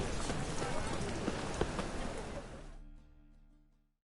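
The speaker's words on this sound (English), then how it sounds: "It's raining again." Steady rain falling in The Witcher 3 game world, a soft constant patter with hoof-like clops mixed in, fading out toward the end; faint voices may be present underneath.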